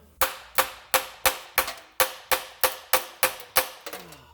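Steady hammer blows bending down the lip of a rotted lower oil pan on a 2012 Dodge Grand Caravan 3.6 L V6, about a dozen evenly spaced sharp metal strikes, each ringing briefly before the next.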